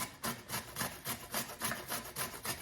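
Carrots rubbed against a kitchen grater produce a steady, rhythmic rasping, with roughly a dozen quiet back-and-forth strokes repeating evenly and close by.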